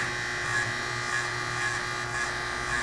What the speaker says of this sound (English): Next thing I do, take my Andis T outliner.